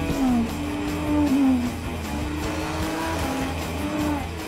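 An Aston Martin sports car of about 820 horsepower roars steadily at high revs, with its tires squealing in brief wavering pitches over the engine noise, close and loud throughout.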